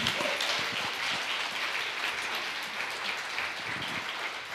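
Church congregation applauds in a steady, fairly distant patter of many hands clapping, a dense rain-like wash that holds evenly throughout.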